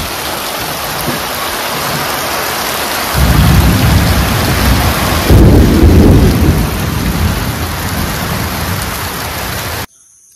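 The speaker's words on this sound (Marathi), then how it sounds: "आणि आज दिवाळी आणि पाऊस बघा." Loud, steady downpour in a Konkan village, with a deep roll of thunder swelling through the middle before the sound cuts off abruptly at the end.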